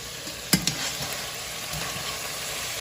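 Lamb stew ingredients browning in a pan give off a steady close sizzle, with a couple of sharp spoon-scrape knocks near the start and soft stirring sounds after.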